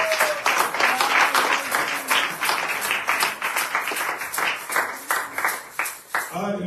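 A church congregation applauds and cheers the Lord, a run of rhythmic, fairly close clapping in steady pulses with voices calling out beneath it, the claps thinning into separate bursts toward the end.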